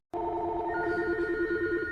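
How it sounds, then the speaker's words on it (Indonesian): Telephones ring throughout a federal bank with a steady electronic trill that starts abruptly and continues without pause, clear and close. "Setelah tombol ditekan, semua telepon di dalam bank federal berdering."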